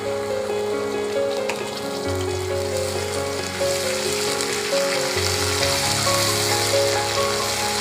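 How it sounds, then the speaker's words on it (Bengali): Ginger-garlic paste sizzles in a pan with already-fried onions, a close, steady frying hiss that holds evenly throughout with no talking. "হালকা হালকা করে কষিয়ে নেব যাতে কাঁচা গন্ধটা না থাকে আর পুড়ে না যায়"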